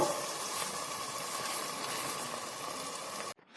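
Pizza frying in a generous amount of oil in a covered pan gives a steady, close, broadband sizzle and hiss that holds evenly for several seconds, then cuts off abruptly.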